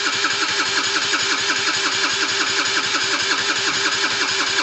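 A Gilera DNA two-stroke scooter engine cranks steadily during a start attempt, a fast regular whirring pulse repeating several times a second, close and even, without firing.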